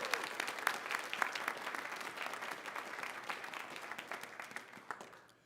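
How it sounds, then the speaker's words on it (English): Applause from a convention audience at a closing ceremony, CONvergence 2021, a dense steady wash of many hands with a few sharper claps standing out, sustained and fairly even for about five seconds. "One more round of applause,"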